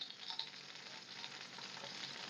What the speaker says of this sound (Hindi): लो मीडियम फ्लेम पे मैं इसको फ्राई कर रही हूँ